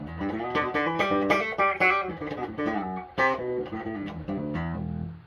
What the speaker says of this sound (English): So what you hear is the bass itself.